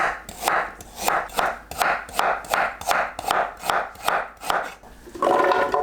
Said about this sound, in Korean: 믹서에 갈기 좋게 썰어주세요.